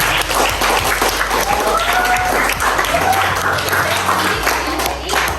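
An audience applauds a group of presenters in a steady, sustained burst of clapping that fills the room from start to finish, with faint crowd murmur mixed in.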